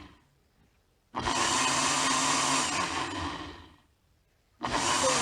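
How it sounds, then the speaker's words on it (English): Pancake batter for oven pancakes whirring in a blender, a loud steady motor roar running for about three seconds, then stopping and starting again near the end. "You are mixing in your blender"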